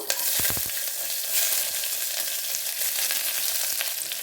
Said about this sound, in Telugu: ఆనియన్స్ని బాగా వేయించుకుందాము